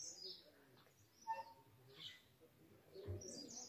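Birds call and chirp in a quiet, secluded forest near Nainital, scattered short tweets and whistles rising over soft ambient hush, moderately distant and unhurried.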